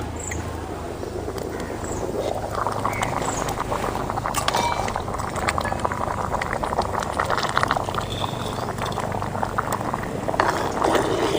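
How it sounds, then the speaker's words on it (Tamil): Village-style saaranai greens kuzhambu boils in a pot, with steady, close bubbling and soft popping that runs continuously from start to finish. "இன்னொரு கொஞ்சம் நேரம் வேகட்டு"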